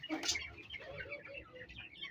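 Soft pigeon coos and bird calls close by, with faint background chatter and rustling.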